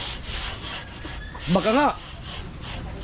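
Sandpaper scrubs steadily by hand in a continuous rough, hissing rasp that runs the whole time, with a short spoken phrase cutting in briefly near the middle.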